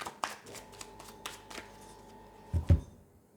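Cutting and shuffling a deck of tarot cards: soft papery riffles and taps spread across the span, ending in a couple of louder slaps of cards near the close, with no talk.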